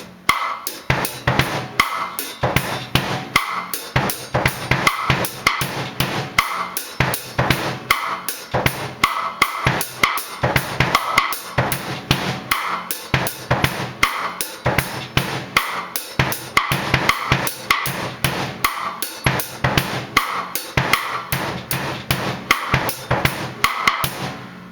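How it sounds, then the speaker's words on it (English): A drum kit plays a simple slow-to-medium tempo hip hop beat with a 3-over-2 polyrhythm, steady kick, snare and cymbal hits repeating loudly and evenly throughout with no talking. "if I play just kind of like a simple medium to slow tempo hip hop beat,"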